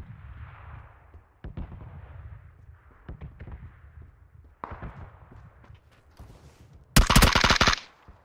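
Gunfire in PUBG, a solo battle royale match: scattered single shots and short bursts at a distance over a low background rumble, then a loud, close, rapid burst of automatic fire near the end.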